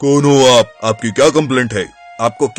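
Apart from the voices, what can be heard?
None of the usual background noises is heard.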